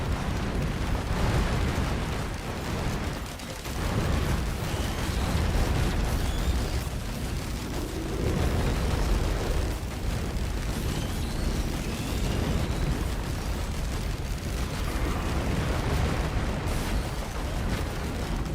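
Dense, continuous barrage of rocket explosions and booms in Risk of Rain 2, loud and layered with no pauses, no voices.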